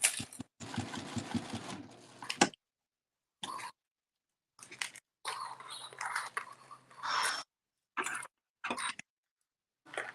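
A sewing machine stitches the seam of a clamshell sling in several short bursts of varying length, broken by pauses and a few soft handling noises.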